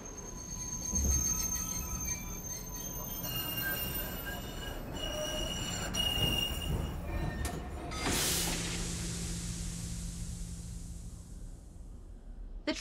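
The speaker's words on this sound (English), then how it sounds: "The train has stopped." A passenger train in the video game Murder in the Alps rolls to a stop, with steady rumbling and high squealing wheels, then a loud hiss of released brakes near the end, with no voices.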